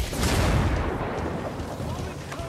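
Grenade blast in the Ghost Recon squad raid, a heavy low rumbling boom that rolls and sustains through the whole moment, loud and close.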